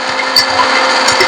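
A kitchen mixer grinder whirs loudly and steadily as it grinds coarse leftover grated dried coconut into powder, a close, continuous motor buzz.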